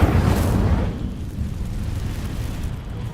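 A fire spell cast in Hogwarts Legacy, a loud roaring whoosh of flame that bursts at the start and settles into a rumbling crackle before fading slightly, no talking.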